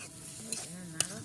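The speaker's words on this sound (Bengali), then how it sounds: "টমেটো দিয়ে বেশ কিছুক্ষণ কষতে হবে, নেড়ে নিতে হবে।" Tomatoes and fresh onion greens are stirred in a pan for a fish-head curry, heard as a quiet sizzle with two sharp spoon clinks against the pan over a short stretch.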